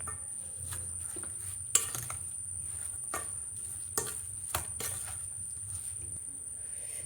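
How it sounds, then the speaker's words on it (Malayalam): A spoon stirring ginger paste into a mixture for ginger curry, soft scraping with a few sharp taps against the vessel over a faint steady hiss, quiet and close. "എന്നിട്ട് ഇതെല്ലാം കൂടെ നമുക്ക് മിക്സ് ചെയ്ത് വയ്ക്കാം."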